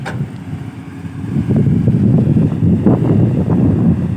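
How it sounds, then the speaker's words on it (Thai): Strong cold-season wind buffets an outdoor microphone, making a steady broadband roar that grows louder after the first second and a half, with a low rumble underneath and no speech. "ลมแรงมากครับ"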